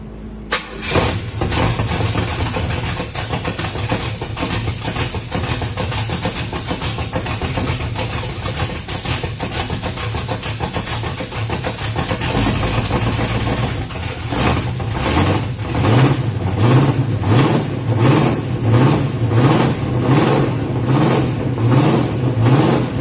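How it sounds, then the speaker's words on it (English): A Pontiac 400 V8 runs in its bare chassis, a loud steady engine that rumbles throughout, then settles into a pulsing, rhythmic lope with repeated rev-like surges in the second half, up close and with no voices. "that one you sent me of it just running in the chassis"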